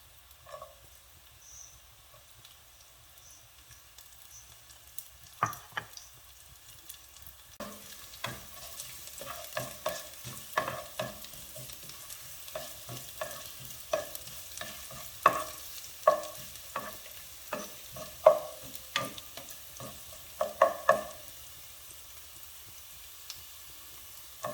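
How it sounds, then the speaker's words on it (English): Garlic and ginger fry in a pan, starting as a faint quiet sizzle that grows busier after several seconds into a crackling, popping fry with irregular close ticks and spatters, and no voices. "You will cook until your garlic turn yellow."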